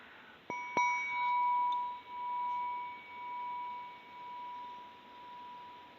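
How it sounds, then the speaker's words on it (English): A small meditation bell is struck once, giving a clear ringing tone that lingers and slowly fades over several seconds, with a faint slow pulsing as it decays, alone in a quiet room. "I have a little bell here that I'll hit just to begin."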